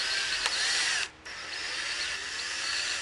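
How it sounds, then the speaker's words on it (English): A power driver spins out Phillips head screws from a 2015+ Subaru WRX headlight assembly, with a loud, steady close whir, a brief pause near the middle, then more continuous driving. Nobody speaks. "There's 4 Phillips head ones. So I'm gonna go ahead and take those out now."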